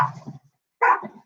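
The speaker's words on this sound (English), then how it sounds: "Will you ask that dog to stop barking?" A dog gives two short, sharp barks separated by a brief silence, close and fairly loud with nothing else around them.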